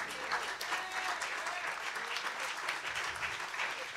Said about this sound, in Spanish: Otro aplauso de golf